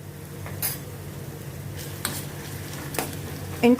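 Onions sauté in a pan with ginger-garlic and green chili paste, a low steady sizzle broken by a few soft stirring scrapes and a light clink of a utensil near the end.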